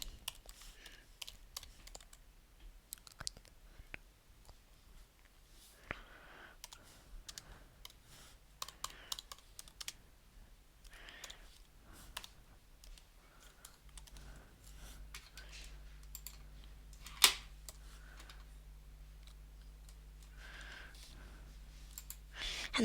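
Quiet, close computer keyboard typing and scattered mouse clicks come while a design for a rectangular cookie cutter is saved in Fusion 360, with a speaking voice over them and a low hum beneath.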